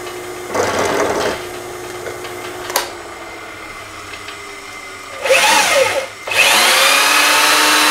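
Metal is drilled for a 1/4-20 tap while making a spindle stop for a South Bend 11 lathe; a motor whirs in two loud bursts, with a short tap and quieter hum between.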